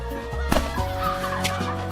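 A turkey gobbling nearby in a rapid burst of throaty, warbling calls, with other fowl clucking softly underneath and no speech.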